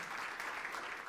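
A church congregation breaks into applause, with a brief, even wash of many hands clapping, heard somewhat faint and distant.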